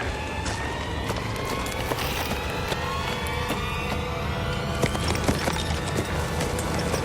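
Horses move along a wooded bush trail, their hooves clip-clopping in an irregular rhythm over a dense outdoor wash, close enough to stand out clearly, with a brief whinny and no talking.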